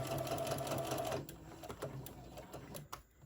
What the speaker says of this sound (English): now I'm going to slowly start sewing all the way around